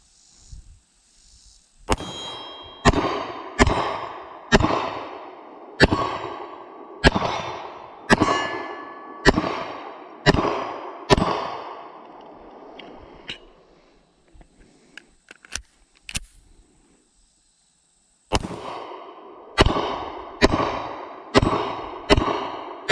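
Pistol fire from a Canik MC9 9mm with a red dot sight at a shooting range, a string of sharp, loud shots with a steady rhythm, then a pause, then another quick string, with no talking.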